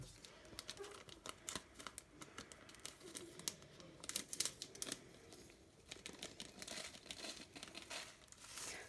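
A small resealable plastic bag being filled with sequins crinkles and rustles in quick, irregular bursts close by, with faint clicky rattles throughout, quiet overall.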